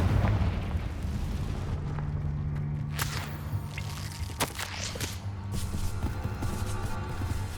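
A Confringo blasting spell explodes in Hogwarts Legacy, sounding as a series of sharp booming blasts and crackles over a steady rumbling game soundtrack, with no talking.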